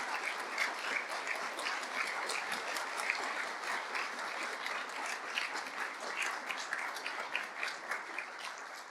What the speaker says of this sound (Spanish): por pedir un aplauso para Cambio en Reversa